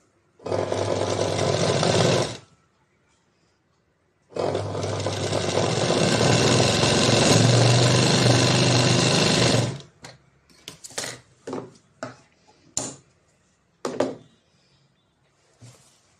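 A sewing machine stitches aari work on a blouse in two loud, close bursts of steady whirring, a short run then a longer one, followed by scattered clicks and thunks of handling the fabric.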